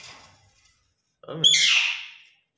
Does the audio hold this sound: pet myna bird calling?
yes